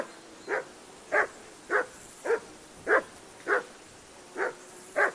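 Dog barking in the medieval video game Kingdom Come II, eight evenly spaced, moderately loud barks in steady rhythm, each short and sharp.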